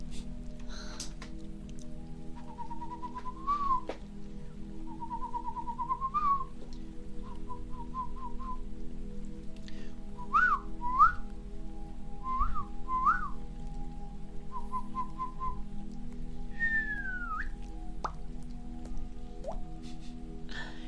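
A person whistling imitations of bird calls, a series of short rising and falling chirps and trills spaced out over a quiet, close background.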